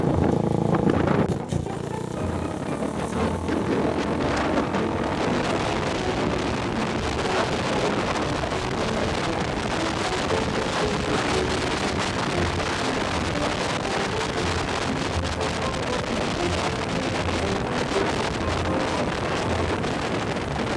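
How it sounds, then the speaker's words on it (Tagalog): A 400cc motorcycle is being ridden. A continuous engine drone sits under heavy, steady wind buffeting across the microphone the whole way through. "Dito sa motor na to kay Dome"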